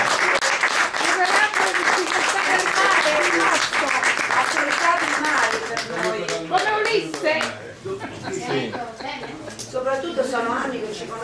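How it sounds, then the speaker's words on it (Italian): Audience at a book event applauding, dense clapping that is close and sustained, thinning toward the end as talk joins in. "innanzitutto vorrei farvi fare un applauso"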